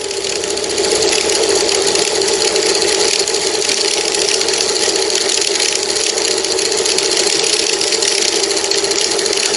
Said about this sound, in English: Let's run this motor here off that motor.